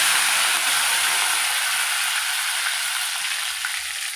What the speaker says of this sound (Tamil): நல்லா கடுகு நல்லா பொரிஞ்சு வந்துடுச்சு.